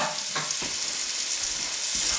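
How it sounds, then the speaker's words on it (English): Roast beef browning in a hot pan gives an even, close sizzle with a few soft thumps and scrapes as the meat is moved. "we're just browning the outside to get it started"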